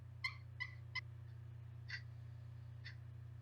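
A hand-operated turkey call imitates a turkey's short single-note cluck, sounding several sharp, separate clucks spaced unevenly over a steady low hum, fairly close and clear with no talking.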